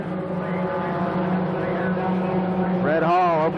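Race car engines at Winchester Speedway in 1993 roar together at the green-flag start, a steady loud drone with a rising, sweeping whine near the end as cars accelerate past.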